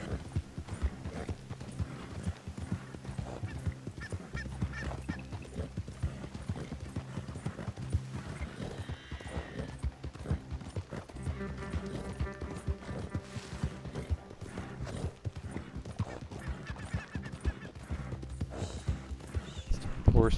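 A horse gallops in the video game Red Dead Online, with fast, dense hoofbeats running continuously under a steady background bed and a brief louder burst near the end.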